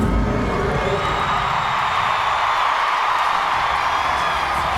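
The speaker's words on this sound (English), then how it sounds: "The crowd loves it." A gymnastics meet crowd cheers loudly after a floor routine at an Auburn versus LSU meet, forming a dense, sustained roar of whoops and applause throughout.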